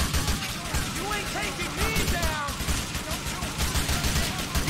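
Rapid gunfire in the video game GTA 4 during a bank heist shootout, bursts of shots crackling continuously across the clip amid other game noise, with voices talking over it.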